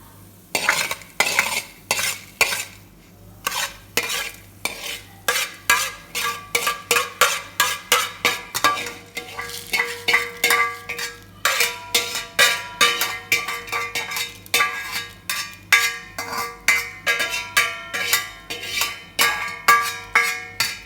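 A spoon scrapes and stirs freshly roasted spice powder in a metal pan for Tirumala Kadambam, then scoops it out, producing rhythmic metallic clinks and scrapes repeated steadily, close and crisp with no talking.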